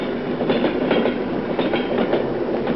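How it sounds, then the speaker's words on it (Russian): An electric train rolls across railway switches, a loud close rumble with rhythmic clickety-clack wheel impacts repeating steadily throughout, with no voices. "С одного пути на другой поезда переходят по стрелочным переводам."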